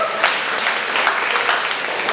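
Steady applause from a church congregation, dense and continuous clapping throughout, fairly loud and close.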